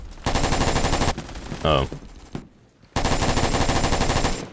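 A 7.62 rifle fires in Phantom Forces in two loud, rapid full-auto bursts separated by a brief lull, with a short vocal exclamation between them.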